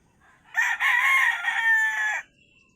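A single loud rooster crow, drawn out for well over a second, close and clear against a quiet background.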